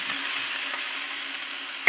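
Masala fries in a pan with a steady, close sizzling hiss throughout, and a brief louder clatter of stirring near the end.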